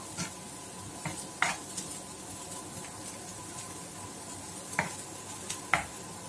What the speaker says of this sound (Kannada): ಫುಲ್ ಕ್ರಿಸ್ಪಿ ಆಗೋವರೆಗೂ ಫ್ರೈ ಮಾಡ್ಕೋಬೇಕು ನೋಡಿ ಸ್ವಲ್ಪ ಫ್ರೈ ಆದಮೇಲೆ ಈ ತರ ಆಗಿದೆ ಇನ್ನೂ ಸ್ವಲ್ಪ ಫ್ರೈ ಆಗಬೇಕು